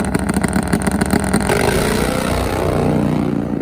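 A Pro Fuel nitro Harley-Davidson outlaw drag bike launches in high gear only at a drag strip, a loud close crackling engine blast that steadies into a sustained roar.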